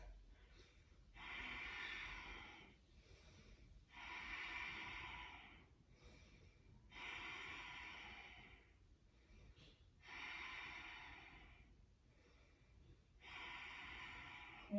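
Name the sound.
breathing during yoga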